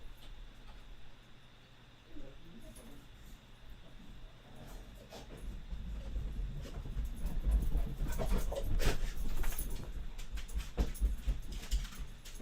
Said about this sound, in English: I have to go let my doggos out real quick